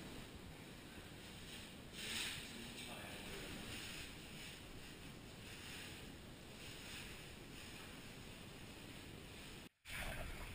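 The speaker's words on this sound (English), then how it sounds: "The waves are brilliant, aren't they?" Ocean waves surging and washing steadily on a windy coast, a broad continuous rush with a louder swell early on, close and loud with wind buffeting the microphone and a brief dropout near the end.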